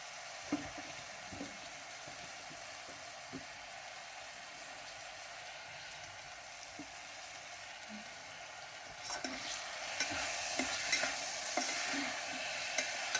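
Basmati rice frying in a pan while being stirred, a steady soft sizzle with occasional scraping taps of the spoon, growing brighter and louder toward the end.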